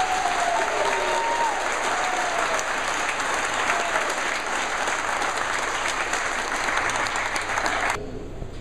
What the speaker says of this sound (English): I want a big hand for all of our ladies.